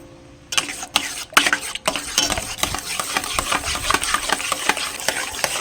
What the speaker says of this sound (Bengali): এবার এই গুঁড়ো দুধটা এই গরম জলের মধ্যে দিয়ে গুলে নেব।